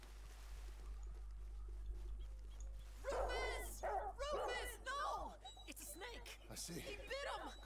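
A dog in the video game Red Dead Redemption 2 gives a run of whimpering barks and yips at mid distance over a low steady hum, with a voice talking alongside.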